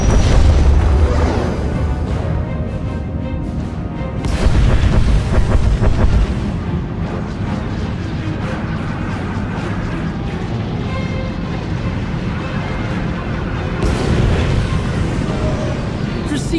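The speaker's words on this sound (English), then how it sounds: "Proceeding with bombardment." Space battle bombardment in Star Wars The Old Republic, deep rumbling booms and blasts rolling continuously under a voice speaking, with heavier bursts near the start, middle and end.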